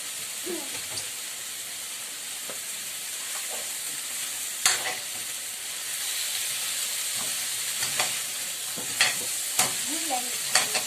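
Leftover yellowfin fish is stirred in a pan over a low, steady sizzle, with sporadic utensil scrapes and taps that come more often in the second half.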